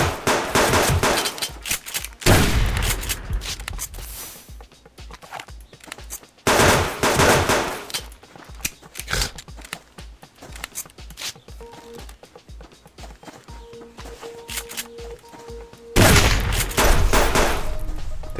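Automatic gunfire in the survival video game Subsistence comes in several loud sustained bursts separated by quieter stretches, with faint rustling and footsteps between them.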